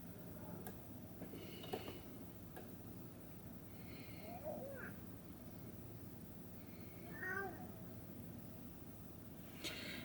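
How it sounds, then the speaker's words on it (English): A pet cat meows a few times for attention, brief faint calls spaced through a quiet indoor room with steady low background hum, no one talking. "Sorry if you guys can hear my cat. He wants attention."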